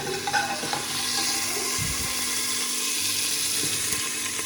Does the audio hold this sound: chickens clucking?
no